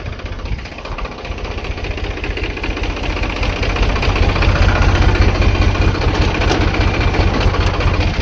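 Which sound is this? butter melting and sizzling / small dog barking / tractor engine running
tractor engine running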